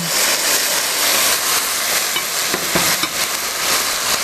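Tomato paste and tomato puree being stirred and spread in a hot pan, a steady close sizzle with soft scraping strokes running throughout, no talk.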